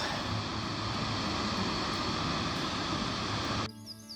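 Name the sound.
waterfall at Alder Creek, Yosemite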